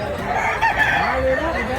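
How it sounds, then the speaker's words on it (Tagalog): Capon roosters, castrated chickens sold cheaply at a market in Mantalungon, Cebu, give drawn-out crowing and clucking calls close by, with steady background noise and a faint voice underneath. "Kapong mga manok mga idol."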